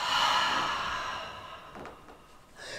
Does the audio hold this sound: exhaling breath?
yes